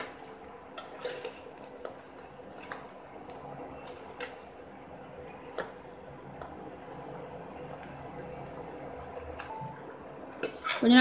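Tomato pickle stirred in a pan, with light scattered clinks and scrapes of a utensil against the pan over a quiet background hum, and a louder clatter at the very end.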